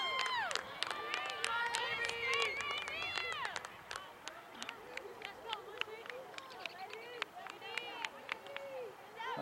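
A crowd at a women's rugby match claps and murmurs, with scattered sharp claps over a busy babble of voices and cheering, steady throughout.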